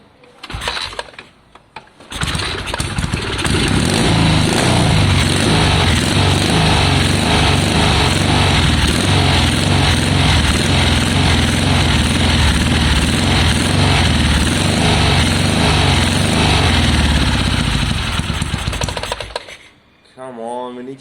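A 1973 Triumph Bonneville engine fitted with Amal carburettors runs at a raised idle, a loud, rapid and steady popping throb that holds close to the microphone for about seventeen seconds and then cuts out.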